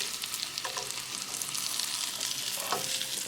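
A flipped Atlantic salmon fillet pan-fries with a soft, steady crackling sizzle, fairly quiet and close, with a couple of faint utensil taps and no voices.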